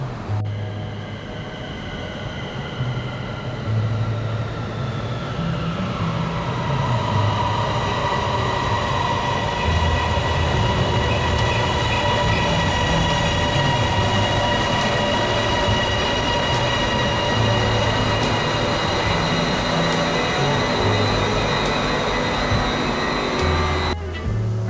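A train rolls into a station on the line to Suvarnabhumi airport with a rising then falling pitched whine, steady rumbling wheels and faint squeals, continuous and fairly close.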